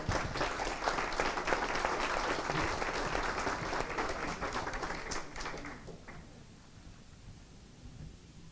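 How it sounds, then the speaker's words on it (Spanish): A conference audience applauds a government minister with a broad wash of clapping that holds for about six seconds, then fades to a low murmur. "Le damos un aplauso, por favor"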